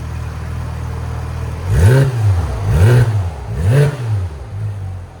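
A 2019 Porsche 911 GT3 RS with muffler delete and exhaust valves open revs three times in quick succession, each sharp, loud bark rising and falling over a steady idle, close by with no talking.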